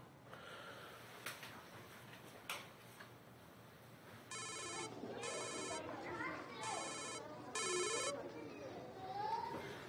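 A telephone rings while someone places a call: four loud, evenly spaced ring bursts in the second half, over faint background household noise.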